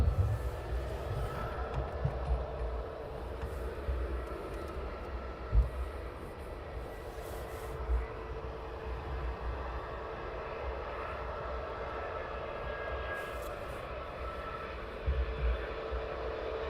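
An EasyJet airliner lands at Luton Airport at dawn, its jet engine roar a steady, moderately distant drone throughout, with a few faint thumps and no talking.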